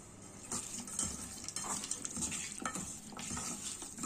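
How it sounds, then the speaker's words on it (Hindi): Chicken pieces stirred through a lemon juice and oil marinade, giving a continuous wet, squelching scrape with occasional soft knocks of a utensil against the bowl, close and steady with no talking. "इसको अभी हम थोड़ा मिक्स करेंगे।"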